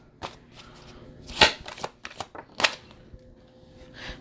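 Tarot cards being shuffled by hand close up, a few quick riffling bursts and taps at an uneven rhythm in a quiet room, with no talking.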